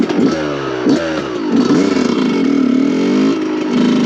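A Yamaha YZ 125 two-stroke motocross bike in second gear at mid revs is blipped repeatedly for a wheelie, loud and close, its buzzing engine rising and falling in several quick surges.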